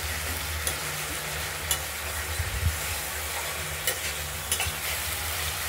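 Spice paste fries in oil in a pan, a steady sizzle and hiss running throughout, with a few soft scrapes as the masala is stirred, alone and close.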